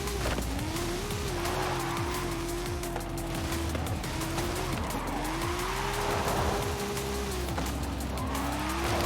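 A car in a driving video game oversteers and skids, with tires squealing in long wavering whines over a continuous loud engine roar, the squeal repeating several times.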